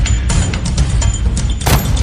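A video game grenade goes off amid booming gunfire-like blasts, several loud thuds and cracks packed into two seconds of dense, continuous noise.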